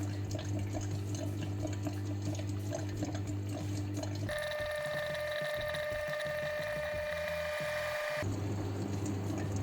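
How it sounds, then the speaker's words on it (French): A Qi Aerista connected teapot pumps hot water upward and lets it drip into the tea infuser, with a steady humming pump and watery trickling, followed by bright tonal whirring and dripping in the middle stretch. "de l'eau chaude, la faire monter, vous voyez, vous l'entendez, et faire tomber dans l'infuseur"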